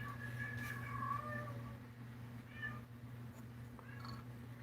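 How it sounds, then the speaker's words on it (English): A house cat meows loudly and insistently at close range, giving several drawn-out calls with short pauses between them over a steady low background hum. "we have a kitty making a lot of noise."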